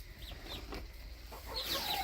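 Hens in a hen house give soft, scattered clucks at close range, quiet and intermittent over a low background hum.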